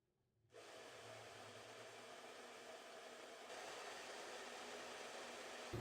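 Hair dryer with a diffuser drying wavy hair: a soft click, then a steady, even whooshing blow that continues throughout, stepping up slightly partway through.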